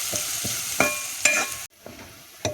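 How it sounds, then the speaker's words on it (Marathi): Onion, garlic-ginger paste and green chilies fry in hot oil with a steady close sizzle, while a spoon scrapes and stirs the pan in several clear strokes. The sizzle cuts out briefly, then comes back more quietly. "त्या आणि ह्या 2 मिरच्या आपल्या चांगल्या मस्तपैकी तेलात तळून घेणार आहे, परतवून घ्यायचा."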